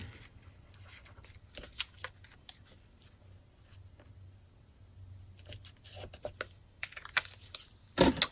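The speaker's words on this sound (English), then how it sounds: "I'm going to take the 1 1/2 inch circle punch and cut that out" A 1 1/2 inch circle punch cuts through paper, heard as scattered crisp clicks and crunches, close and fairly quiet, ending in a louder burst of snapping clatter.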